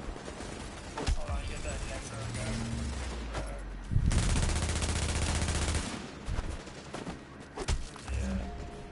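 Gunfire in The Division, with dense bursts of automatic fire and single shots throughout, loudest in a sustained volley near the middle, under game effects and brief talk.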